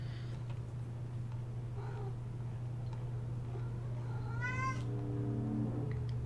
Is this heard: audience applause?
no